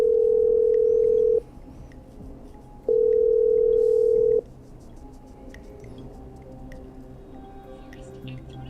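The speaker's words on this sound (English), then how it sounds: "I'm dialing. One moment." In the video game Killer Frequency, a steady dial tone sounds twice, each burst about a second and a half with a pause between, followed by faint quiet electronic ticks and drips.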